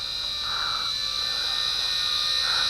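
A WLToys Q222G FPV drone with altitude hold flies nearby, its small propellers giving a steady high-pitched whine with faint wavering swells and no speech.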